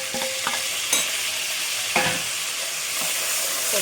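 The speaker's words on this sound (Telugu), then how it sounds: "మనం వేసిన జీలకర్ర, జీడిపప్పు అది బాగా వేగిపోయింది" Cumin seeds and cashews frying in oil in a pan for a chicken dish, a steady close sizzle broken by a few sharp scraping stirs of a spoon, with no talking.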